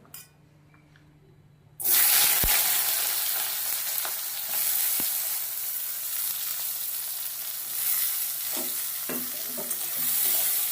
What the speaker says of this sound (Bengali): তেলটা গরম হয়ে গেছে, লবণ মাখানো ছিল, হলুদ মাখিয়ে বেগুনটা এবার ভেজে নেব।